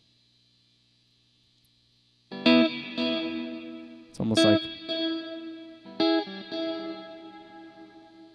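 An electric guitar plays through Eventide Space and Strymon BigSky reverb and delay pedals: after a near-silent start, a few strummed chords ring out, each trailing into long shimmering echoes and washy reverb tails.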